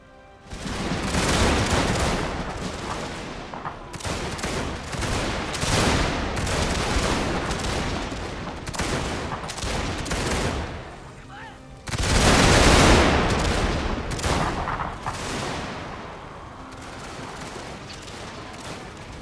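Dense video-game battle gunfire and artillery in a Prussian campaign, with sustained loud volleys, rattling fusillades and heavy booms that surge and ebb across the whole stretch, swelling to a peak near the later part.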